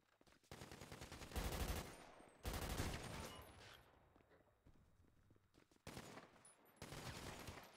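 Bursts of rapid gunfire in a four-versus-four video game shootout, several long loud volleys separated by quieter gaps with faint footsteps between.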